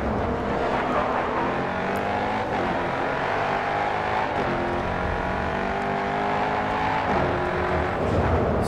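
A race car in the GRID 2 video game coasts in neutral with a continuous, loud engine drone and shifting pitch, surrounded by other cars roaring close by.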